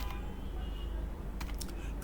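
Someone types on a computer keyboard: a few soft, quick keystroke clicks come late in the moment over a quiet room hum, faint and close.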